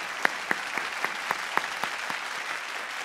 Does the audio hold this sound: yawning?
no